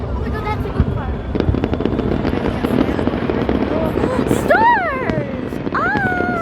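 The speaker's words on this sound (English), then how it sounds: "it's a subscribe to Technoblade firework" Fireworks from a kids' backyard display go off in scattered pops and crackles, with a few whistling rising shells toward the end, while children talk and exclaim over them.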